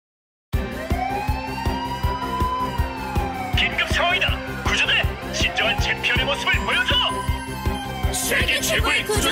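A cartoon fire truck siren wails in rising and falling sweeps over a bouncy Korean children's song with a steady beat and singing voices.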